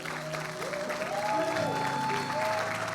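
A church congregation applauding steadily for the Lord, dense continuous clapping from a crowd, fairly near, with a sung or voiced tone gliding underneath.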